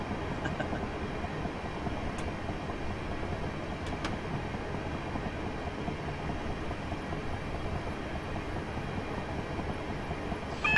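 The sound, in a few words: Class 375 train running in Train Simulator 2016 video game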